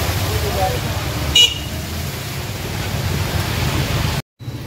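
Steady traffic rumble of motorbikes on a waterlogged road in rain, with a short horn toot partway through under a wash of rain-like noise; a brief dropout near the end.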